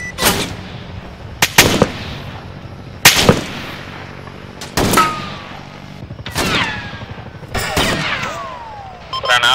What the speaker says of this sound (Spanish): Sable al líder, informo, estamos bajo fuego.